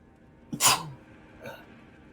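A single sharp human sneeze with a quick inhale just before it, close and loud, followed by a faint short sound about a second later.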